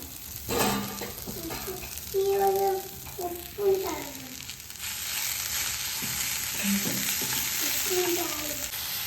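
Paneer butter masala fries in a pan with chillies as it is stirred, giving a close, steady sizzle with intermittent scraping strokes; a person speaks over the cooking.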